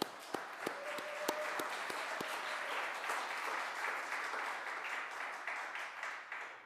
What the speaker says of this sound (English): let's give Leah a clap